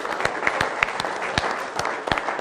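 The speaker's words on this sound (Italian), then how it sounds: "merita un applauso questo Latin Lover" Audience applause at an Alpini gathering on an Italian TV show ahead of the national rally in Treviso, with dense steady clapping and a few sharper claps standing out, loud and sustained throughout.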